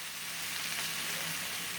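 Bok choy and other vegetables sizzling hard in a very hot pan, a loud, dense hiss that is close and steady throughout with no talking.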